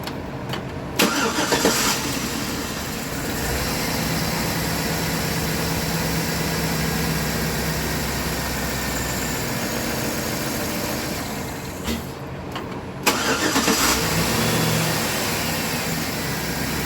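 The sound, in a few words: Chevy engine starting after cleaning injectors with diesel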